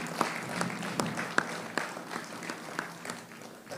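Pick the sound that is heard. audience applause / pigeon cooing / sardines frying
audience applause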